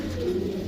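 Pigeons for sale, a rare fancy breed, cooing softly and steadily in a low continuous murmur, with no talk over it.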